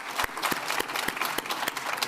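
Conference audience at a keynote applauding, a short burst of steady hand clapping with sharp, fairly regular claps at a moderate distance.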